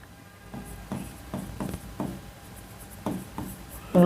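Someone writes on a board during a lecture, heard as a series of short scratchy strokes with small pauses between them, fairly close and soft, with no talk.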